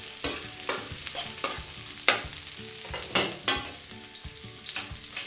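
Potatoes and onion frying in a pan for a sardine and squash dish, a steady sizzle broken by repeated sharp scraping strokes of a spatula stirring the pieces, close and fairly loud with no voices.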